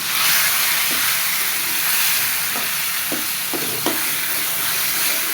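Taro leaves fry in a hot pan with a loud, continuous sizzling hiss, broken by several short scraping stirs of a spatula.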